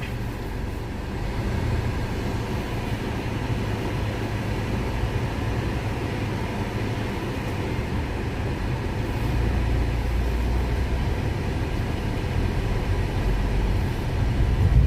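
A Hyundai i20 turbo petrol GDI car with a DCT gearbox pulls away on a test drive, giving a steady broadband drive and road rumble from inside the cabin that builds slightly toward the end.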